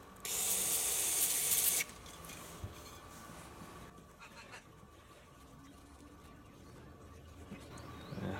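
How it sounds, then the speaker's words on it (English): Cleaner sprayed onto the linkage bearing of a DR650 motorcycle: one loud, steady aerosol hiss lasting under two seconds, followed by quieter workshop handling noises and someone speaking. "All right, we'll give that a spray."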